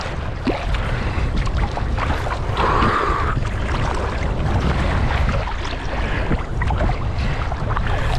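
Large waves on a Turkish seaside beach at evening churn in a constant, close, loud wash of surf with wind rumble on the microphone, no speech over it.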